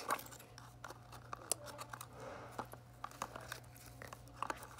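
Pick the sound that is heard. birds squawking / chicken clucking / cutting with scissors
cutting with scissors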